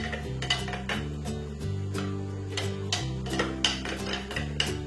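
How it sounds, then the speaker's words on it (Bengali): A spoon stirring lemon juice and sugar into a sattu drink, clinking steadily against the glass in a quick repeated rhythm over steady background music, with no talking. "ভালো করে গুলিয়ে নেব, তাহলে চিনিটা গুলে যাবে পুরো।"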